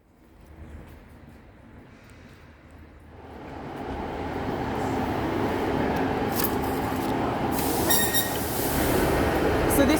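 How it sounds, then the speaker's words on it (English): A train on the reopened Dartmoor Line rumbles and builds steadily, its broad roar growing louder and holding close, with faint high squeals on top. "So this is my train."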